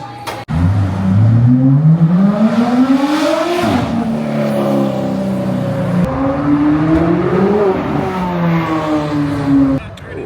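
Turbocharged car engine revving at a Sunday car meet in Catalina, with a Nissan S15 among the cars nearby, rising and falling through several sustained loud revs from close by, with a faint voice under the engine.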